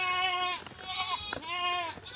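Goats on a farm bleat loudly and close, three long wavering cries one after another with short gaps, and no talk.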